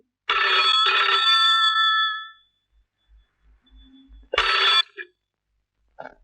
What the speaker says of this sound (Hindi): राजू भैया, आपका फोन है।